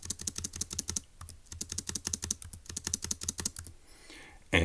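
A puzzle solution is typed on a computer keyboard in quick, crisp bursts of close keystrokes, with a short pause in between, then a soft rustle at the end.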